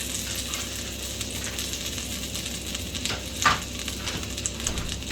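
Peanut butter and jelly sandwiches sizzle in a hot cast iron skillet, a continuous close frying hiss with faint scraping and a brief louder burst of crackle midway.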